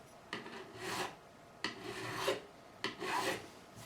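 A metal file rasps across electric guitar frets on an ESP Ltd EC-1000 Deluxe during a setup, three close, even strokes separated by short pauses, alone without talk.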